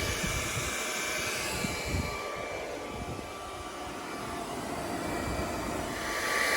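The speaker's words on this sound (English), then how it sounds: "we have our hair dryer here blowing into the plastic" A hair dryer blows warm air onto dented plastic during a cheap dent repair, a constant loud whooshing roar that holds steady throughout with slight swells in level.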